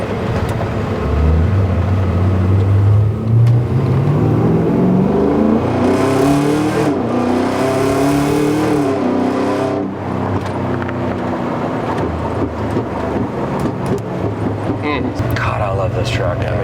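A big LS9 V8 engine in a 1960 Chevrolet Apache truck rumbles loudly and close, revving up in a rising sweep then settling back to a heavy idle, with people talking over it.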